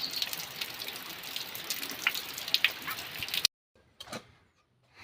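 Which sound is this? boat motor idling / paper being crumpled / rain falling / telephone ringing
rain falling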